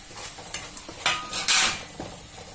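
Onions dropped into a hot pan for a fish curry and stirred, giving a rising sizzle with a few scraping utensil knocks, close and fairly loud over a short stretch.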